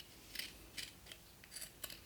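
Scissors trim a fabric seam allowance on a sewing project, a quick series of about six crisp, quiet snips spaced unevenly.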